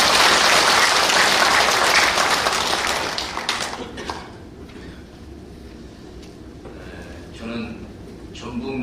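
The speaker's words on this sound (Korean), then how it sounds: "다시 한번 박수 한번 크게 주세요." A church congregation applauds its choir at a Korean church service, a dense, loud burst of clapping that fades after a few seconds into quieter room noise and scattered sounds.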